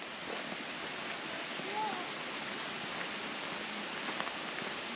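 Water flowing at an outback river crossing on a Northern Territory road trip near Mataranka, a steady broadband rush that stays even throughout, with a faint bird call briefly rising above it.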